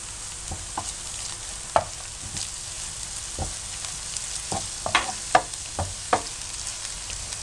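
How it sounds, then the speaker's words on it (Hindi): Potatoes and onion with ginger frying in a pan for a spicy aloo bhindi curry, giving a soft steady sizzle with scattered clinks and stirring scrapes, close by and fairly quiet, with no talking. "आलू फ्राई हो रहे हैं"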